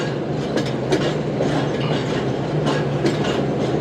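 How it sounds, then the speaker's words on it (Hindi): Shalimar Express train rolling into Rahim Yar Khan railway station, a steady loud rumble of wheels on rails with rhythmic clickety-clack and faint squeal, heard from on board. "ट्रेन रहीम यार खान रेलवे स्टेशन इंटर हो रही है"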